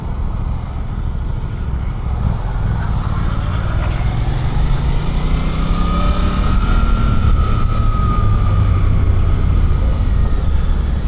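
A Suzuki GSX-8R motorcycle ridden hard in its most aggressive rider mode, the engine droning loudly and continuously with rising and falling revs as it accelerates and shifts, wind rush heavy throughout.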